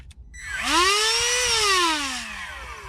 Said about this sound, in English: It's a rotary tool by Milwaukee, highly recommend it.